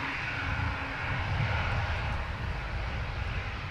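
An Airbus A220 airliner at Manchester Airport gives off a steady low roar of jet engines, moderately distant and even throughout, with no talking.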